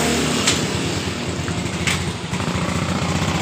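A Yamaha Mio motorcycle engine, an Mio injection model with a stuttering, stalling fault, runs steadily close by after starting, its rapid low putter holding an even beat throughout with no talk.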